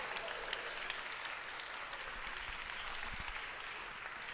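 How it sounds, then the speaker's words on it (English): An audience applauds the people behind a production, a steady, even round of clapping that fills the whole stretch at a soft, somewhat distant level. "let's have a round of applause for every single person"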